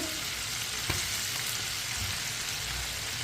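Chicken frying in hot oil gives a steady, quiet sizzle that runs without a break, with a single soft clatter partway through and no voices.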